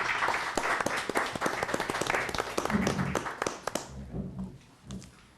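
A roomful of people at a town board of selectmen meeting claps steadily for several seconds, dense and close, then tapers off into a few scattered claps and quiet.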